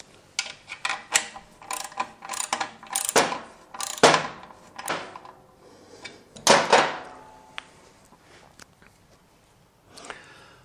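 Hand tools clicking and ratcheting on a slip-on exhaust clamp of a 2019 Aprilia V4 Tuono 1100 Factory motorcycle, an Allen wrench working the clamp nut: a series of sharp, close metallic clicks and taps in irregular bursts, no voices.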